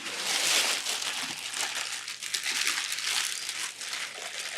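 Plastic wrap crinkles and rustles steadily as it is wound around a scored-and-slipped clay piece, a close, continuous crackling texture that stays dense for the whole stretch with no talking.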